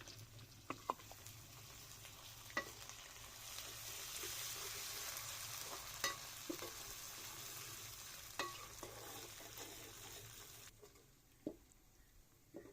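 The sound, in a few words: ginger garlic paste frying in pan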